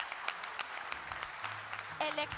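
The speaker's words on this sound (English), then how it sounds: "And we can have a round of applause now." Applause rises at an olive oil quality award ceremony, scattered claps building into a room-wide patter while a voice speaks over it near the end.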